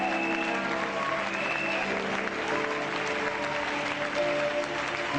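Congregation applauding and cheering at a prophetic church gathering, a dense, steady wash of clapping that runs loud and unbroken throughout with a faint crowd murmur beneath.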